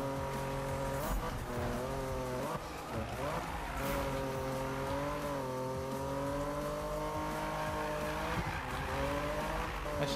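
A car drifts in the Need for Speed 2015 video game with a loud, sustained engine drone and tire squeal, the pitch wavering as it slides, and no voices.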